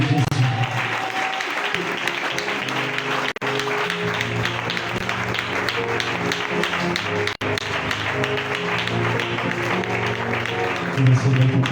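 A standing church congregation claps loudly and steadily in praise, a dense, continuous patter of hands over ongoing music for the whole stretch.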